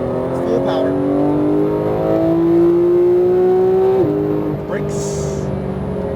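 Porsche GT3 at full power on a racetrack, engine droning loud and close as it climbs steadily in pitch, then a sharp drop at a shift, with someone talking over it.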